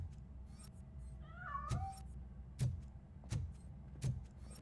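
A cat meows once, a clear rising-and-falling cry, in the RoboCop: Rogue City video game, set against a steady low hum with several heavy, evenly spaced thuds like footsteps.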